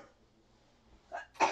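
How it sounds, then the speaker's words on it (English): A short cough followed a moment later by a louder, sharper sneeze, close and alone after a near-silent pause. "A cough and sneeze."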